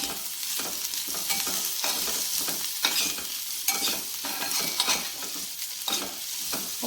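Ivy gourd stir-fry sizzles in a pan while a spoon scrapes and stirs it in repeated close strokes, with soft clinks over a steady frying hiss.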